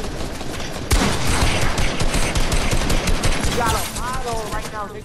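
Rapid bursts of gunfire in the Fortnite video game, dense and loud throughout, with a sharp onset near the start and a voice talking faintly over the shooting.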